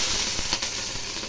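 Tempering for lemon rice sizzling in hot oil, a short burst of loud, steady hiss and crackle from the pan, heard alone without talk.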